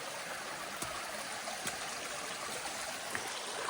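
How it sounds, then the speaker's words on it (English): Moran's Creek in the Gold Coast Hinterland flows as a steady, even rush of water, with a few faint ticks over the continuous stream sound. "So we're about to cross the creek to the lookout."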